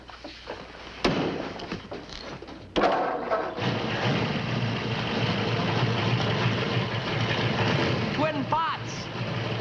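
A modified flathead car engine with twin pots starts with a sharp burst, then settles into a loud, steady rumbling idle, with brief talk and some clanks near the start.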